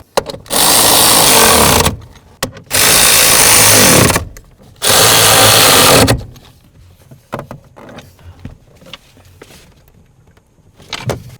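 A power tool snugs up the parking brake ratchet bolts on a 1994–2004 Chevy S-10 in three loud, sustained bursts of about one to two seconds each, separated by short pauses and followed by quieter clinks and handling noises.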